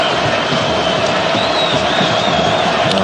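Capacity football crowd at Mohammed V Stadium during Mali vs Algeria, a steady loud wash of massed voices and cheering that holds evenly throughout with no break.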